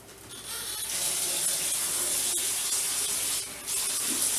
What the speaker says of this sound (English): I just put water in my can